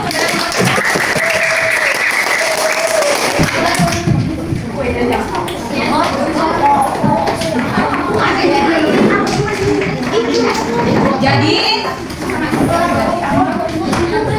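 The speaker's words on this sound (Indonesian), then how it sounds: "Kita beri tepuk tangan dulu." Classroom of students applauding during a teaching practice lesson on changes of state of matter, steady clapping lasting throughout, with voices mixed into the noise.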